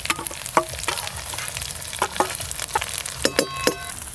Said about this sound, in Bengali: এবার যে মশলার পেস্টটা তৈরি করা আছে এটা পুরোটাই দিয়ে দেবো।